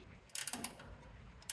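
A socket wrench ratchets on a rear bumper bolt of a 1994 Chevy K1500, giving a brief close burst of clicking pawl ticks and another faint click near the end.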